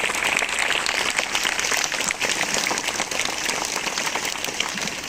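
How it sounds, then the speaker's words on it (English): A school audience applauds its dedicated teachers at a welcome ceremony for a new principal, with steady, dense clapping that holds evenly throughout and no talk over it. "Please give a round of applause to our dedicated teachers."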